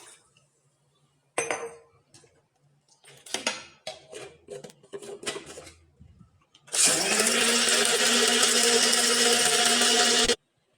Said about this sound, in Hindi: और ब्लेंडर को चला देंगे इस तरह